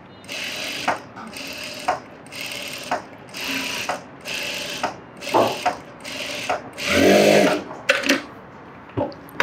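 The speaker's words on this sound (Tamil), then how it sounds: "இந்த மார்க் மேலே இப்போ தைக்க போகிறோம்." A sewing machine stitches along a marked line on fabric in short repeated bursts of mechanical whirring, about eight runs separated by brief pauses, close and clear.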